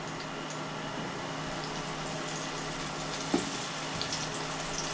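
Sliced mushrooms frying in a little oil in a pan give a steady, faint hiss and sizzle, with one brief soft knock partway through and no talk.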